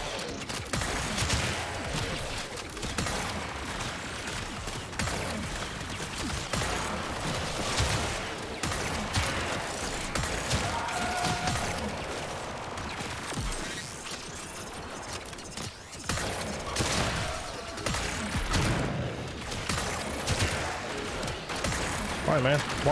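Gunfire and grenade blasts pound a defended terminal in the video game Warframe, with dense, continuous bursts of shots and explosions, and voices talking over the combat.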